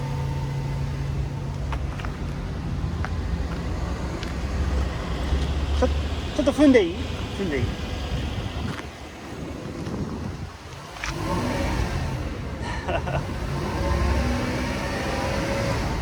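A 1997 Toyota Century with its V12 engine and muffler runs steadily at idle, a low rumble with a slight rise in revs, heard under wind buffeting the microphone and nearby talking.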